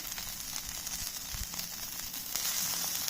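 Chicken liver fries on an iron pan, giving a faint, continuous sizzle and crackle that holds steady and swells slightly toward the end.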